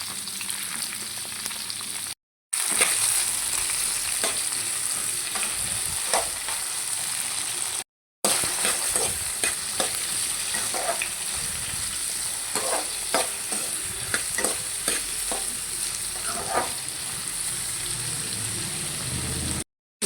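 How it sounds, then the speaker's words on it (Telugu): Onions frying in oil in a pan for a white brinjal kurma, a loud, steady hissing sizzle with occasional spatula scrapes and crackles, briefly cut by a few short gaps. "మనకి ఉల్లిగడ్డ కూడా వేసేసుకుందాం మనము అన్నీ పచ్చివాసన పోయేదాకా వేయించుకోవాలన్నమాట"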